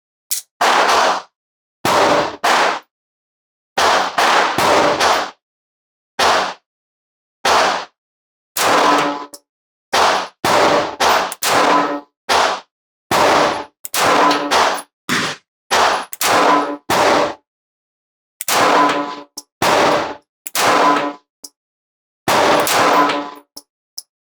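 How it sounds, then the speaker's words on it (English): A SIG P365 XL 9mm pistol is fired at a target on a range: about ten sharp, loud, close shots in a slow measured series, with brief echoing tails and silence between. "let's do 10 shots at our challenge target. We'll start with our SIG this time."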